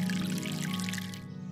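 Water pours onto a seed bed in a children's cartoon scene, a continuous soft trickling stream with light splashing that runs steadily and then stops abruptly.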